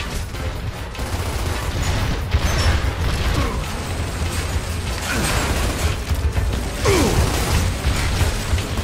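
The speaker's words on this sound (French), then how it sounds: "Recharge ton arme." A weapon being reloaded during a battle in Gears of War, with metallic clanks, ratcheting clicks and mechanical rattles over a dense, loud background of combat noise.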